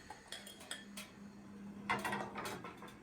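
A spoon or whisk clinks against a bowl while an egg and sugar mixture is stirred over hot water for tiramisu, light scattered metallic taps, close and fairly quiet, no talking.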